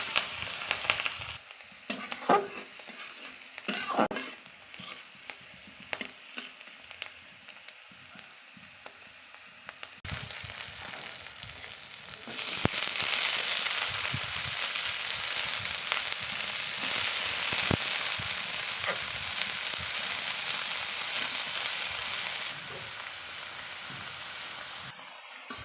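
Chopped onions and chilies fry in hot oil in a wok, a steady loud sizzle with scraping stirs and clatter that swells into a dense, continuous hiss, heard up close without speech.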